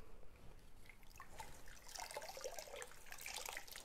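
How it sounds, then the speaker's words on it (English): A damp microfiber cloth being rinsed in water during antique glaze work, giving faint, continuous trickling and sloshing with small splashes, quiet and close. "I just want to rinse out my cloth or get a cleaner one."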